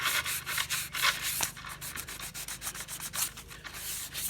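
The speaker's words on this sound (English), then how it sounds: "I may just hit it with a sandpaper." Steady abrasive rubbing of sandpaper along a cane fishing pole, continuous back-and-forth scratching strokes close up with a brief sharper scrape midway, no voices.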